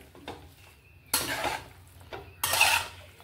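Chicken for dum biryani being mixed with mint, coriander, yogurt and spices in a metal pot, two loud bursts of wet scraping and clanking with softer stirring between, close up and without talk.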